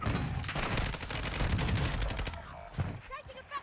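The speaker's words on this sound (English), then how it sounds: "Who's shooting over here?" Rapid automatic rifle fire in a shooter video game, a sustained loud rattle of closely spaced shots for over two seconds, followed by a few scattered single shots.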